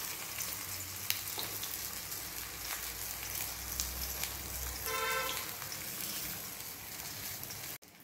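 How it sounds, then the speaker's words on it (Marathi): Alu vadi pieces fry gently in warm oil in an iron kadai over a low flame, giving a soft, continuous sizzle with faint crackles and a brief clink near the end. "तेल कोमट असतानाच या वड्या यामध्ये घालायच्या आहेत"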